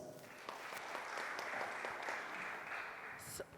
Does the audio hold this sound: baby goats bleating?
no